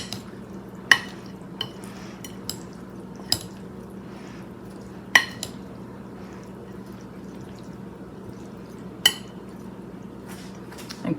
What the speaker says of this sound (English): it is mixing up. It's mixing up pretty good.